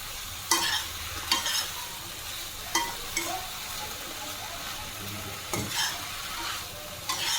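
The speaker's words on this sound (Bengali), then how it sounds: "লাউটা দেওয়ার পরে আমি একটুক্ষণ এটাকে একসাথে ভালো করে মিশিয়ে নেব" Chopped bottle gourd is stirred into moong dal in a hot pan; a spatula scrapes and knocks in several sharp strokes over a soft, steady sizzle.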